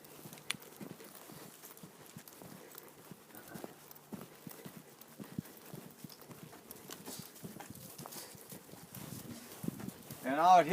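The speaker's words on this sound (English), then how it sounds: "out here is my big daddy horse, the horse that makes all the little ones." Hooves of a big stallion clip-clop at a walk on a winter farm, steady soft thuds with scattered rustling and a brief louder scrape near the end.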